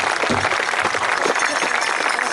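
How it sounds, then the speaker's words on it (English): Audience applause for Native American dancers at Cheyenne Frontier Days, a steady dense wash of clapping lasting the whole moment, fairly loud and continuous with a faint low murmur beneath. "Let's give them a big round of applause."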